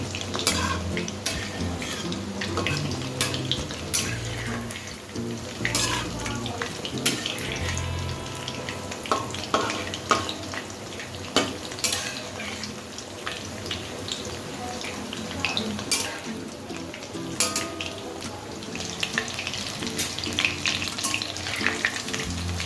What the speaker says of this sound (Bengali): পকোড়াগুলো ঠিক এইভাবে কড়া করে ভেজে নিতে হবে।